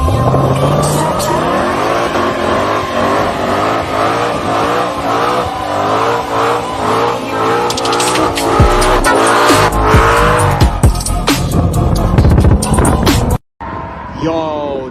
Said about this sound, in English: this Evo here be shredding, bruv. He be shredding, sliding all four wheels